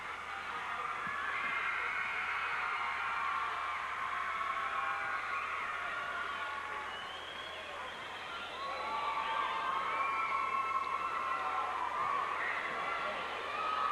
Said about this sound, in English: Large crowd once again here at the Hershey Park Arena.